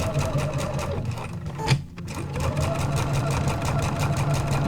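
A sewing machine fitted with a quarter-inch foot stitches quilt blocks, a rapid, even mechanical chatter close by, pausing briefly midway before resuming at the same steady pace.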